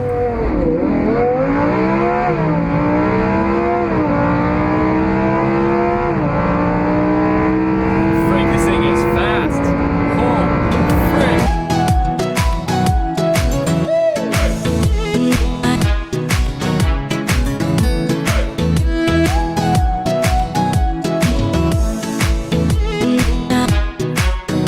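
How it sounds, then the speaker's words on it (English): A Chevy Cruze accelerates hard from a standstill toward 60 mph, the engine note climbing through rising gear sweeps and then giving way to loud wind and road roar, with a voice talking over it at times. "0-60 boys in the Chevy Cruze"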